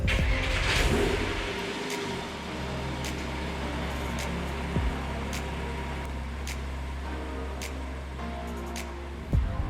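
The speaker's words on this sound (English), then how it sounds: "Now I'm going to start the engine and let it run for a few minutes" A Porsche 987 Cayman engine runs steadily at a low idle, a constant rumble with faint clicks and a couple of brief bumps near the end.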